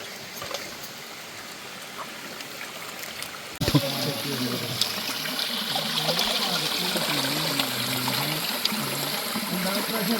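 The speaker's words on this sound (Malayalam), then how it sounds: "ശുദ്ധമായ വെള്ളത്തിൽ മീൻ കഴുകുന്നു." Fish being washed in clean water, quiet at first, then a sudden steady rush and trickle of flowing, splashing water that continues to the end, with a voice faintly mixed in.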